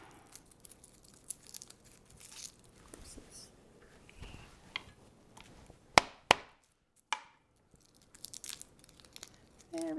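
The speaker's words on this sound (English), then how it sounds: "A little smash helps you get the peel off." Garlic clove smashed on a cutting board to loosen its peel, with a couple of sharp thuds mid-way, then crinkly papery peeling, amid soft kitchen handling and a faint murmuring voice.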